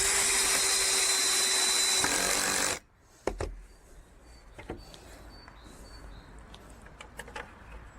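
A power screwdriver whirs steadily as it drives the supplied screws into pre-drilled holes on a DIY lawn robot garage, then cuts off abruptly, followed by scattered clicks and handling knocks.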